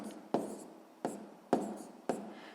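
Pen writing on paper during a sixth-grade math exercise, four distinct scratchy strokes at an uneven rhythm, close and quiet, with no speech.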